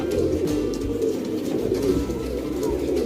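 Guldar pigeons, a female and a travel-bred male, coo in a loft: soft, low, continuous throaty cooing close by, layered and rolling throughout with no speech.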